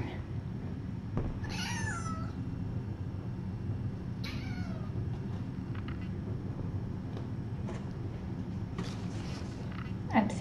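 Several high, thin kitten meows come in short bursts over a quiet, low background murmur, fairly close.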